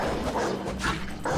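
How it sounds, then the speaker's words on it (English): Hounds barking and yelping in the video game Assassin's Creed Odyssey, several short sharp barks over loud combat noise and game sounds, close and fairly loud. "Hey, you two dogs. Hounds."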